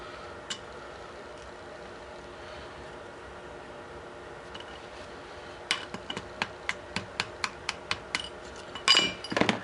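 A small screwdriver taps and clicks against metal while working a stuck valve out of a tire inflater, at first sparse, then a quick even run of sharp ticks followed by a brief rattle, close up and without speech.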